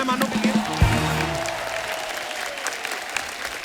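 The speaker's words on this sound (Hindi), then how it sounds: "जोरदार तालियां हो जाए हमारे मेहमानों के लिए।" Studio audience on a Kapil Sharma Show comedy set breaks into loud, sustained clapping to welcome guests, steady dense applause filling the clip with brief musical tones at the start.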